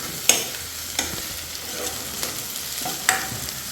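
Onion, tomato and garlic fry in a pan, a soft continuous sizzle punctuated by a few light scraping stirs at irregular intervals, close and steady with no talking.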